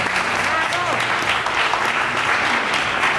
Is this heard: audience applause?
yes